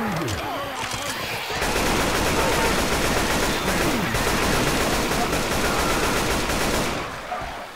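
Sustained automatic gunfire in Left 4 Dead 2, loud dense bursts of rapid shots that begin after a brief quieter lead-in and run steadily for several seconds before easing off at the end.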